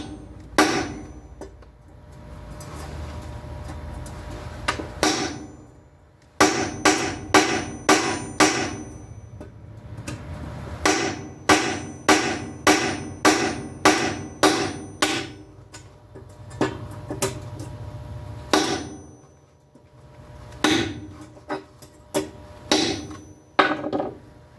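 A hammer strikes a carbide-tipped cold chisel in sharp, ringing metallic blows that come in quick bursts with short pauses in between, loud and close, with no talking.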